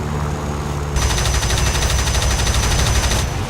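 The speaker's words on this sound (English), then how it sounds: "Right, my cannons are back in business." In War Thunder, over a MiG-3's steady engine drone, rapid aircraft cannon fire rattles in a fast, continuous burst for about two seconds, then stops.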